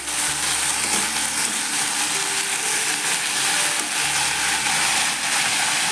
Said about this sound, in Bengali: আলুটা এখন ভাজা হচ্ছে